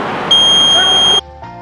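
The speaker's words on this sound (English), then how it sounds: "the green light will be moved to red light and the buzzer will be activated" An anti-theft buzzer on a red sandalwood tree protection system sounds a loud, steady electronic tone for about a second, then cuts off into a fainter lower hum.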